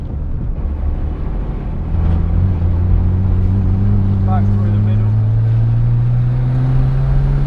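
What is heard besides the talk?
Nissan Skyline GT-R34 engine on race track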